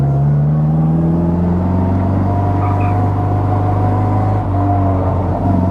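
Engine of a 1960 Austin-Healey Bugeye Sprite on a road, with flooding carburettors. It gives a loud, steady, close drone with strong tonal harmonics that dips briefly near the end.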